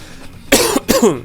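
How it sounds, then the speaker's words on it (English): Two sharp, close coughs come in quick succession, loud and isolated against a quiet background. "Pardon me for coughing."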